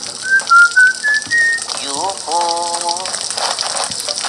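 Water gushes and sprays from Luigi's vacuum in Luigi's Mansion 2, a hissing stream layered with whistly rising and falling game tones and short bursts.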